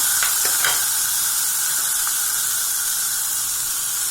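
Tomatoes hiss and sizzle in a hot pan for barley porridge, a close, continuous frying crackle with a few faint stirring clinks near the start.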